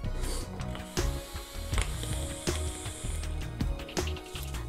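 Airflow ring being twisted on a Royal Hunter vape atomizer, giving repeated close clicking and ratcheting mechanical sounds at an irregular rhythm throughout.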